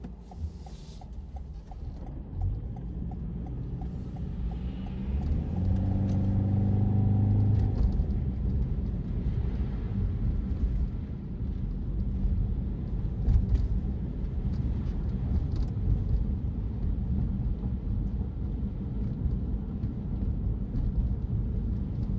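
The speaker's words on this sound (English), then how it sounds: "Let's drive through this neighborhood." Inside a car cruising through a snowy residential neighborhood in Belfountain, Caledon, Ontario, a steady low road rumble and engine drone carry on throughout, with a brief rise in engine note early on and no talking.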